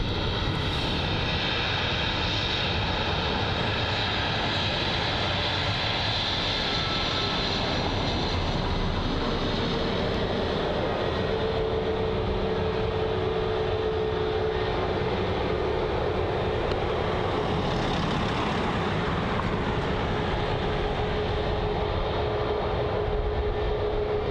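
Delta Airbus A321neo airliner at Bristol Airport, a steady distant jet engine roar that swells and fades over about twenty seconds, with no voices.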